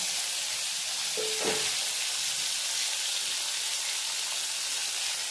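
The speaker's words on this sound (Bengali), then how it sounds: "দু পিস দিয়েছি আর দু পিস ভাজবে।" Fish pieces frying in a small kadai, giving a steady, even sizzle and hiss that holds at one level from start to finish, with a brief faint clink near the middle.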